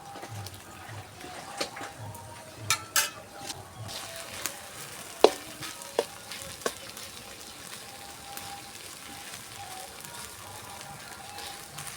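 Banana flower chachchari, a Bengali village-style dish, simmers and fries softly in a pan, with a faint sizzle broken by a handful of sharp clicks and taps from the utensil.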